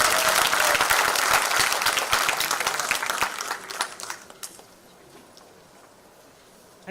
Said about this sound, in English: Let's give a round of applause to Hiralal for his work for the foundation.